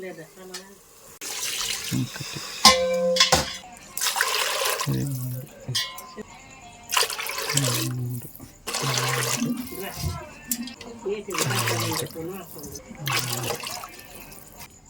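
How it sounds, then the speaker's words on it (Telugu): Water poured from a vessel into rice for pulao, several separate splashing pours in a row, close and clear with short pauses between them. "ఇప్పుడు ఆరు చెంబులు నీళ్ళు పోస్తున్నాను"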